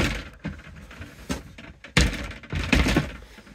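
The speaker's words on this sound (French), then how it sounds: "La porte s'ouvre en deux parties." A two-part washroom door in a camper van is opened, giving a few close knocks, a latch click and thuds spread over several seconds, with no speech.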